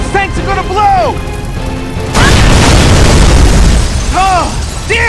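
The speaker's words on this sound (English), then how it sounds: "Those tanks are gonna blow!" Fuel tanks explode aboard a ship in Gears of War 3. A deep, loud boom erupts and rumbles for several seconds, with shouted voices just before and after.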